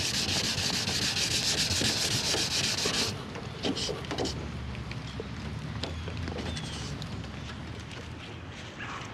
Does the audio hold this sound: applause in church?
no